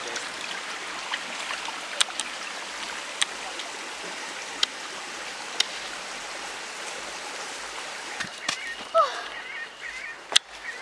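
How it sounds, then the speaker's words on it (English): Water flows steadily from a rock at Boti Falls in Ghana, a continuous broadband rush at moderate distance with a few sharp clicks and knocks over it, no talk. "It's the purest water coming from a rock."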